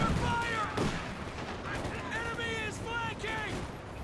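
Gunfire crackles through a Company of Heroes 2 battle as pioneer infantry keep shooting to hold an enemy squad pinned, steady bursts and scattered shots layered with tonal battlefield effects, continuing throughout under game noise.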